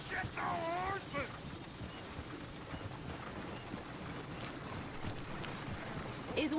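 Horse hooves clip-clop quietly in the video game Red Dead Redemption, an uneven trotting patter under people talking and outdoor game ambience.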